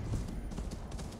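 Horse hooves clip-clop steadily in the video game Assassin's Creed Valhalla, a near, continuous trotting rhythm over a low rumbling game backdrop with no talk.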